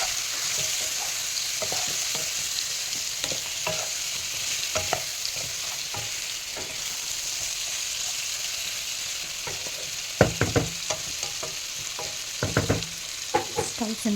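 Chicken frying in a pan, stirred with a utensil, a steady close sizzle throughout with repeated scraping strokes that turn louder and sharper near the end; no talking.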